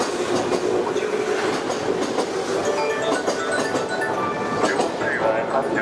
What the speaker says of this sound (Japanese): 4番乗り場に電車が参ります。